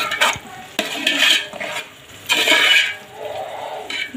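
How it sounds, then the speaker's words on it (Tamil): Chicken biryani mixed with curd being stirred in a pot, a spoon scraping and sloshing through the thick mixture in several close, uneven strokes with brief pauses and no talking. "இங்கே பாருங்கள் நல்லா மிக்ஸ் பண்ணிக்கோங்க."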